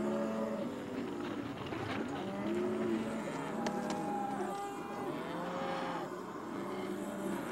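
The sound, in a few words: cattle mooing on a Hawaiian ranch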